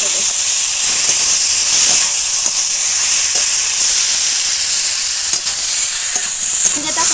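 Fried potatoes and ridge gourd are stirred into a spice paste frying in hot oil, a loud steady sizzle with faint scraping from the stirring throughout and no talking.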